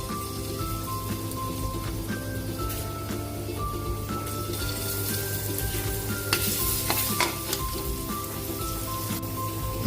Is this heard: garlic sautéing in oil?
yes